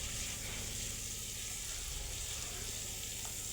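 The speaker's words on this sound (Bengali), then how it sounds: "এখন আমি সেই মাছের মাথা সব দিয়ে ভালোভাবে কষিয়ে নেব।" Hilsa fish heads frying in a pan give a steady, dense sizzle that runs without a break for a few seconds, close and even, with no talking.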